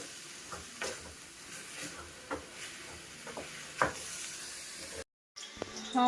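Chicken pepper fry in a pan, mixed with salt and turmeric powder, sizzles and scrapes under steady stirring, with soft clinks and a brief silent gap near the end.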